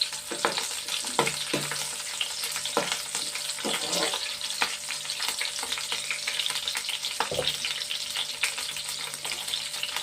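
Dried chillies fry in hot oil in a pan, a steady close sizzle running throughout with a few sharp crackles and pops scattered over it.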